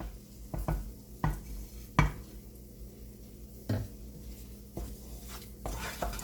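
Bajra flour roasting in ghee in a pan, stirred with a utensil that knocks and scrapes against the metal several times over a soft steady sizzle, with no talking.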